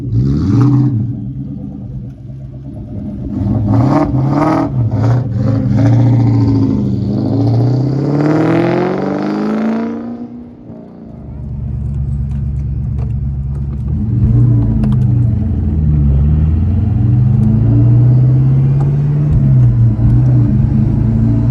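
A Ford Mustang Cobra SVT Terminator drives along with a loud, steady engine roar that rises and falls through gear changes, a brief lull near the middle, then rumbling acceleration, with no talk.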